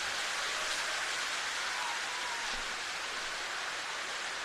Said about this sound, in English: Wowzers, it's tropical intensity now,